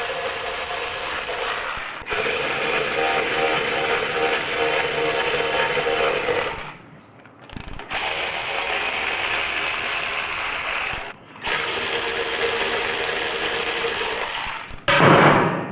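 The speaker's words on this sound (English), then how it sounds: "We're going to take the back 2 bolts out." A ratchet backs out the rear bolts holding a carbon fiber shorty front fender, making loud, close, continuous clicking in long runs broken by brief pauses.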